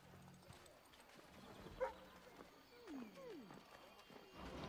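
Horse hooves clip-clopping in Assassin's Creed 3, a faint, irregular patter set under game ambience and voices, with one brief louder knock midway.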